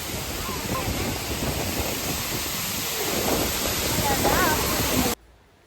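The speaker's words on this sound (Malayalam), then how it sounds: "നമ്മൾ കുറച്ച് സമയം നടന്നിട്ട് ഇവിടെ വെള്ളച്ചാട്ടത്തിൻ്റെ അടുത്ത് എത്തിയിട്ടുണ്ട്" Waterfall in the rain, a loud, steady roar of rushing water heard close by for about five seconds before it cuts off abruptly.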